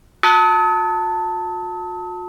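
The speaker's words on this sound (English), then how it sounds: "Oh, this is a good bell." A single bell is struck once with a sharp onset, then rings on with a long, clean, sustained tone that fades only slightly. Close and loud, heard alone.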